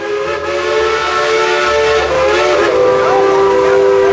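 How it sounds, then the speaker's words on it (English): A steam train whistle at Dollywood theme park sounds steadily and loudly for several seconds, a sustained tonal blast over a low rumble and hiss, with no talking. "That steam train is wonderful."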